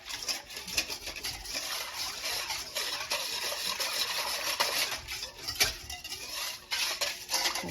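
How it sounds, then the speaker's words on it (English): Bun dough ingredients are whisked in a mixing bowl, the whisk scraping and clinking against the sides in a busy, continuous rhythm at close range with light wet patter, and no talk. "whisk this together a little bit."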